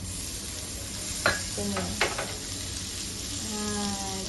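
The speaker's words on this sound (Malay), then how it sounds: "Lepas tu kita masukkan hot dog. Kita goreng dia." Steady sizzling of hot dogs frying with garlic in a pan, with a couple of sharp utensil scrapes and clinks partway through.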